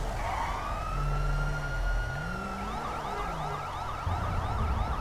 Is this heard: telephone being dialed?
no